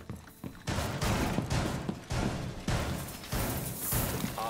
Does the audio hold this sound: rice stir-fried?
no